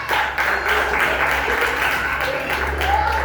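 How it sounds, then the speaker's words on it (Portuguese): Congregation applauding inside a church at the close of a service, a dense sustained wash of many hands clapping together at close range, with a voice speaking faintly underneath. "Aplauda mais uma vez o Senhor, que é maravilhoso."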